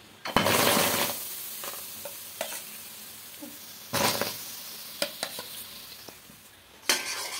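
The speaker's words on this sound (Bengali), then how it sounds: "কড়াইটা গরম ছিল, গরম কড়াইয়ের মধ্যে তালের মাড়িটা দিয়েছি।" Palm fruit pulp hitting a hot wok and sizzling, with sharp bursts of frying and scraping at intervals over a quieter background hiss.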